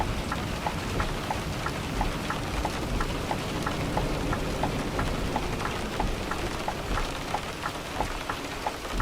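Rain falls in Euro Truck Simulator 2, a constant hiss of drops with soft regular ticking taps on the truck, steady and unbroken with no talk.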